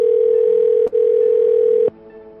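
A steady telephone dial tone hums alone, loud and unbroken apart from a brief dropout near the middle, then cuts off abruptly just before the call forwards to voicemail.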